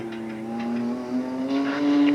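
NASCAR Busch North race car engine running on the speedway at Riverside Park, a steady tonal engine drone that gradually rises in pitch and loudness, with a track announcer talking over it.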